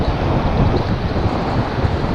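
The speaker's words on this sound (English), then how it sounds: "It's just too windy." Steady, roaring wind buffets the microphone on Wharariki Beach, New Zealand, a continuous broadband rush with faint surf underneath and no voices.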